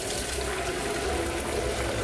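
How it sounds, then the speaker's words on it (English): Hot juices from a pork roast are poured off from the pan into a container, a steady, close liquid pour with a continuous splashing hiss and no talk. "And I'm going to pour this off the juices."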